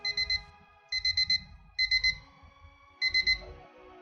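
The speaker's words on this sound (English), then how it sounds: "This is actually to set your alarm sound." Electronic alarm clock beeping in repeated bursts of four rapid high-pitched tones, separated by short pauses, clear and close.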